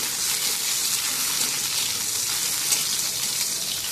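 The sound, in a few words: fish frying in a pan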